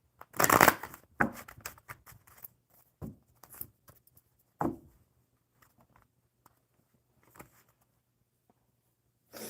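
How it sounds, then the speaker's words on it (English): A deck of enchanted map oracle cards is shuffled by hand close up in quiet bursts, a loud riffle and then scattered softer flicks and taps separated by pauses. "So let's shuffle up the enchanted map cards"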